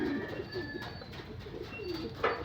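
Pigeons cooing softly nearby, low rolling coos repeating over a faint background of other bird chirps, with no voices.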